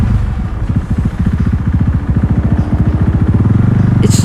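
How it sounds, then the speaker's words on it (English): Unmuffled KTM 390 Duke single-cylinder motorcycle running with no exhaust at cruising speed, a loud, close, steady rapid thumping pulse with no talking. "if it's cruising speed, it's really not that loud at all. It's not obnoxious."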